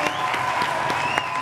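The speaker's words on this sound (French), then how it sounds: "Je pense que ça va applaudir, s'il vous plaît." A brief burst of close, dense audience applause at a studio show, with sustained tones running beneath the clapping.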